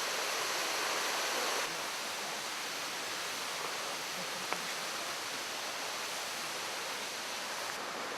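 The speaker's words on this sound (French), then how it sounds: "vous êtes exactement au meilleur endroit dans cette forêt pour entendre le bruit de la cascade qui tombe" Ryumon no Taki waterfall in a Yoshino mountain forest pours in a steady, dense, even roar with no break, a constant broad wash of falling water that is somewhat louder for the first second or two.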